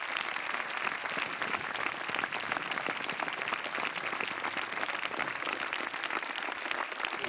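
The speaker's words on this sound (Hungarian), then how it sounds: "Mindenki állva tapsol neked, ami azt jelenti, hogy kivételes vagy." A standing ovation fills a large hall after a performance in a Hungarian talent competition's semi-final. Dense, sustained applause rolls on without a break for the whole stretch, with no speech over it.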